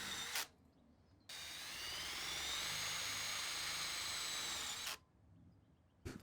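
A power drill runs a self-drilling screw into a steel polytunnel winding bar, one sustained high whine of a few seconds bracketed by short bursts, fairly faint and close.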